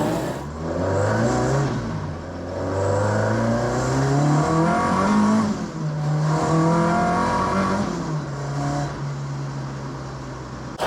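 A Ford Mk1 Escort being driven in the rain, its engine droning loudly and steadily close by with rising and falling revs as the gears change, and no voices over it.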